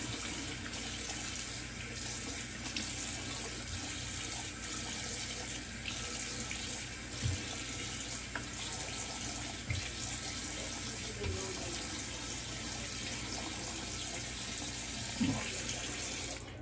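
Water running from a bathroom tap into a sink while someone washes off after a wet shave, a steady splashing flow with occasional small knocks and clinks, no talking.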